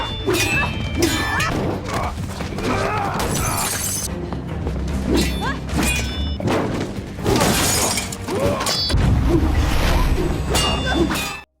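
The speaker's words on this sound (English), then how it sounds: "After choosing their blades, they begin to fight." Film blade-fight action at a tournament brings dense, loud clashing, with metallic clangs, thuds, whooshes and shattering impacts layered over dramatic background sound.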